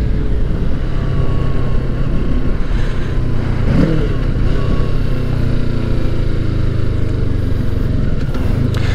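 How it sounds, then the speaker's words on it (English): A 2020 Kawasaki Ninja 650 KRT Edition engine heard while riding, a steady loud drone under rushing wind with a brief rise and fall in revs near the middle as the throttle is blipped. "I'm gonna blip the throttle a little bit."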